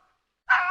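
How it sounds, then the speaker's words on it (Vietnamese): After a moment of silence, a fox gives a single sharp, short yipping call, close and abrupt, with no talk. "Con cáo."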